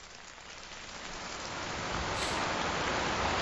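Rain begins falling in a scene from the TV series LOST, a dense, even hiss of drops that swells gradually louder over a few seconds, with no voices.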